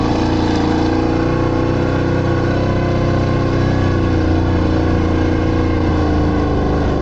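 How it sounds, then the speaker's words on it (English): A car drives along a rough road out toward a village after a forest trip, its engine drone and road rumble steady and close throughout, with no talking. "Now we are driving out to the village."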